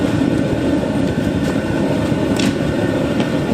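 A 44,000 BTU heater runs on high with a loud, steady roar like a jet engine, a dense, unbroken rush close by with no voices.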